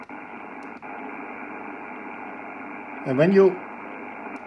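Steady shortwave static on the 80 meter amateur band hisses at an even level throughout, with a brief voice cutting in near the end.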